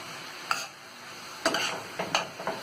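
Ingredients for a Spanish omelette being mixed in a bowl: a few short, distinct scraping and clinking strokes with quiet pauses between them, close and fairly soft, with no talking.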